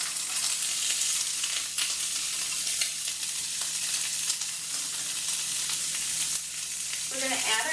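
Garlic cooks in a hot pan, giving a steady, close, dense sizzle that holds evenly throughout with no voices.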